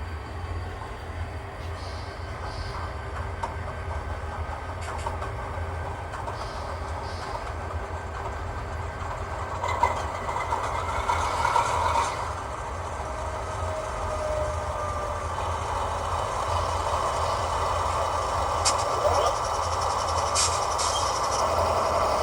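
A Kato P42 HO-scale model locomotive's DCC sound system runs steadily through two speakers with a low diesel idle rumble and faint mechanical clatter, playing alone at modest volume.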